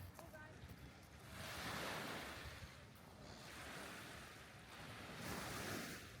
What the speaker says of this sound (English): When the waves reach the shore, you can hear the water and the stones.